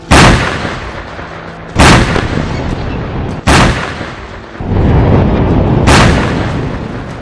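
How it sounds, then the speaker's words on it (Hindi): Rocket attacks and explosions in the Gaza–Israel conflict: four loud, close blasts, each a sharp boom that decays into a long rumbling tail, spaced a second or two apart. "फिलिस्तीन का उग्रवादी गुट हमास इजराइल पर लगातार रॉकेट हमले कर रहा है, आसमान से आग के गोले बरसा रहा है"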